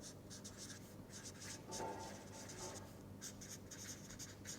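Chalk or marker writing on a board during a mathematics lecture, a run of faint scratchy strokes and taps in an irregular rhythm, quiet and close with no talking over it.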